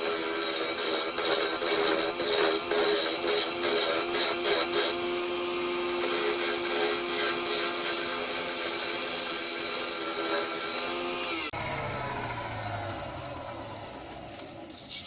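A parting tool cuts a groove into a shaped ash bowl spinning on a woodturning lathe. The sound is a faint, steady humming scrape with tonal whine, and its character shifts abruptly near the end.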